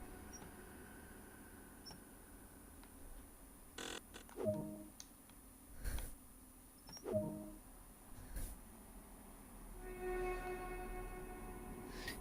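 Simulated train departing a station in a Great Western Express train simulator game, with soft mechanical clunks and hisses, a few rhythmic rail-joint thumps, and a low rising engine drone near the end, all faint and sparse.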